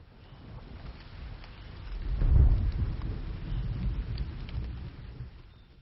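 Rain falling during a thunderstorm, with a deep rolling rumble of thunder swelling to a peak midway before fading back into the steady hiss of rain.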